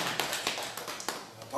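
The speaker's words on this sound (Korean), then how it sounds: "박수도 나오네요." Scattered audience applause at a book-talk concert: irregular, fairly close claps sounding in uneven pulses, with someone talking over them.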